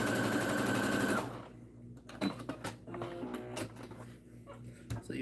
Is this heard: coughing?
no